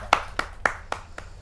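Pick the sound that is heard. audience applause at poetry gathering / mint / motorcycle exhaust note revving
audience applause at poetry gathering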